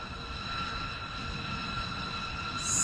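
A B-2 bomber at Nellis AFB gives off a steady, droning roar with a whine running through it, loud and unbroken for the whole stretch.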